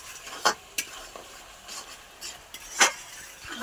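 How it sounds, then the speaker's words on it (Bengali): Tomato paste and spices are stir-fried in a pan, with scattered sharp scrapes and taps of a utensil over a soft background sizzle, close and irregular. "এই যে টমেটোটাকে ভালো করে কষে নিব।"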